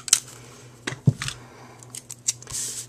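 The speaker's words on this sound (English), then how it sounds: "Add some tape there." Short crinkly tearing and tapping of adhesive tape being pulled and pressed onto a handmade card, a few quick bursts up close with no speech.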